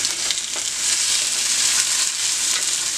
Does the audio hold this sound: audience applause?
no